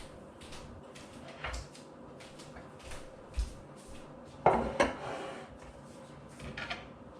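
Plates and bowls handled in a home kitchen to serve carrot and coriander soup, with a series of close clunks, knocks and a sharper ceramic clatter midway, spaced irregularly and without talk.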